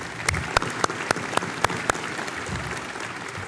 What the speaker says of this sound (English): let's give applause for all of it, for all of them